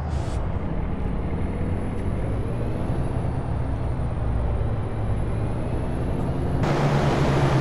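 A truck pulling a trailer drives forward and begins a turn, its steady engine rumble and road noise continuous throughout, with a brief air-brake-like hiss at the start and a louder burst near the end.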